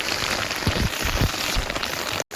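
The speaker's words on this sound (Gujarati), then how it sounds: "આજ આખો દી વરસાદ આવવાનો છે એવું વાતાવરણ કહે છે" Rain pours down on a village rooftop in a dense, continuous hiss with heavier drops spattering close by, then cuts off abruptly near the end.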